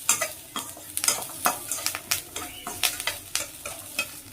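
Semolina stir-fried in a pan with peanuts, curry leaves and onion, a spatula scraping and stirring in quick repeated strokes over a soft steady sizzle, close and fairly quiet with no talk.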